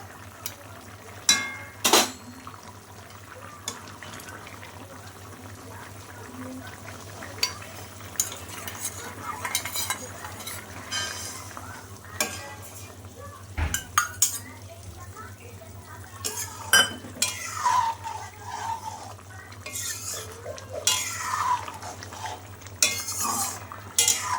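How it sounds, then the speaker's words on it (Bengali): Ground fried spice paste being stirred into a potato and green plantain curry in a pot, with scattered scrapes and clinks of a spoon against metal over a low steady hum and occasional faint voice. "এখন সে ভাজা মশলাটা মিশিয়ে দেবো"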